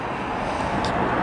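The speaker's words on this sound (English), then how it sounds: "You can hear the traffic behind me." Steady road traffic rumbles in Southampton, a broad continuous roar of passing vehicles nearby with no talk over it.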